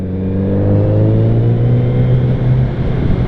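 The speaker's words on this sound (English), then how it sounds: "you downshift and let the clutch out, and it's just smooth re-engagement" Kawasaki Z900RS motorcycle engine revving through a downshift, a loud, close, steady engine note with strong harmonics that rises slightly and holds, with no speech.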